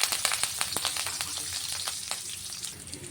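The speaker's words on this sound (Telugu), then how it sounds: "ఆయిల్ హీట్ అయిన తర్వాత అందులో ఒక స్పూన్ ఆవాలు ఒక అర స్పూన్ జీలకర్ర కొన్న ఆనియన్ కరివేపాకు వేసి వేయించుకోవాలి" Onion, mustard seeds, cumin and curry leaves fry in hot oil with a dense crackle and rapid popping spatters, close and steady throughout, without any voices.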